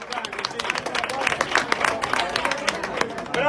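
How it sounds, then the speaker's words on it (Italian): Audience applauding at a live music performance, dense steady clapping mixed with crowd noise and a few voices, fairly close and sustained throughout. "al grande Gianfranco, un applauso"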